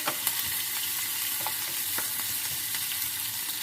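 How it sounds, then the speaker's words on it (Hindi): Garlic paste and green chilli sizzle steadily in hot oil, a continuous frying hiss with occasional crackles and light stirring scrapes, close by. "हल्का सा फ्राई कर लेते हैं।"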